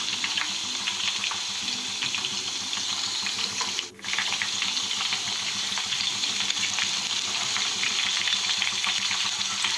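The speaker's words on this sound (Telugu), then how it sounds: "సో మీడియం ఫ్లేమ్లో పెట్టుకొని తిప్పుకుంటూ బాగా ఫ్రై చేయాలి." Small cornflour-coated fish frying in oil over a medium flame, a steady close crackling sizzle that runs throughout with one brief dip partway, no voices.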